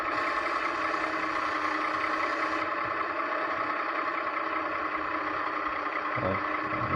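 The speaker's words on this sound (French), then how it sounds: "on va prendre le tracteur là-bas." A farm tractor engine in a video game idles and drones steadily at a constant pitch, with a brief low thump near the end.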